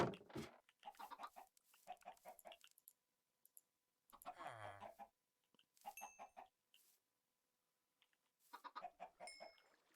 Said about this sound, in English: Let's maybe breed up some chickens.